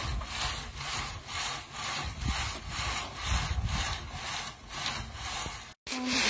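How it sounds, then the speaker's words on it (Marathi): A groundnut shelling machine runs with a steady, rhythmic rasping grind that pulses about twice a second and cuts out abruptly near the end. "आता आपलं असं मशीन चालू आहे शेंगा फोडायचं"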